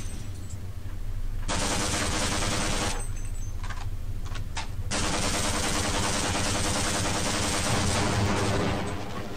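Sustained rapid gunfire in Half-Life: Blue Shift aimed at a tank turret, loud and continuous bursts with a brief drop in the middle, over a low rumbling game background.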